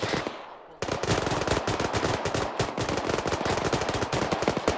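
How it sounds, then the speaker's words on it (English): Sustained covering fire in an ArmA 3 battle, with dense, overlapping machine-gun and rifle shots crackling at close range after a brief quieter lead-in. "Delta, put covering fire down."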